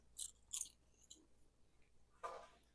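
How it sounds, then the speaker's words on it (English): Crunchy baked kale chips seasoned with vinegar being chewed close up, a few sharp crisp bites followed by quieter chewing in an otherwise quiet room. "So this is what it tastes like. Very crunchy. It disappears in your mouth very, very quickly."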